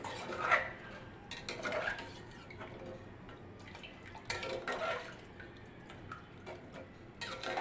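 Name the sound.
stirring moraiya millet with water in a pot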